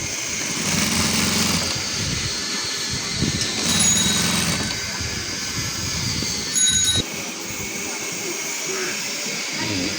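A sewing machine runs in short bursts while attaching a side border to a georgette kameez, its motor humming over a steady background hiss with a few brief stops and restarts.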